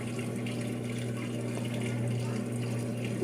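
A Brastemp 5 kg washing machine drains its water in a steady, continuous rush with a low pump hum, close and fairly loud throughout without pause.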